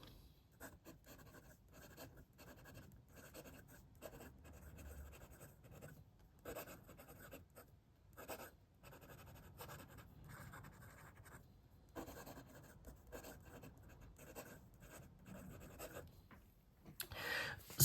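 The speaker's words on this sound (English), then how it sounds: "Let's do some writing." Admok M800 fountain pen with a Schmidt nib writing on paper, a steady faint scratch of the nib broken by short pauses between strokes, close up and alone with no voices.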